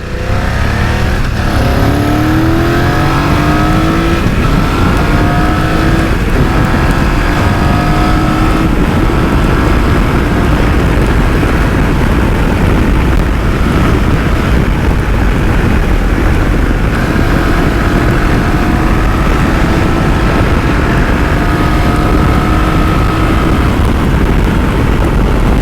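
A 2024 BMW F900 GS motorcycle ridden hard through traffic, engine revving up and down through the gears amid loud, steady wind rush and road noise close to the rider.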